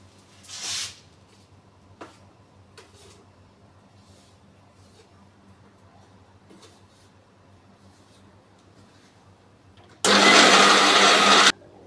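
After mostly quiet moments with a few small clicks, a mixer grinder roars loudly for about two seconds crushing ingredients for thamukku, a Kerala snack, then cuts off abruptly.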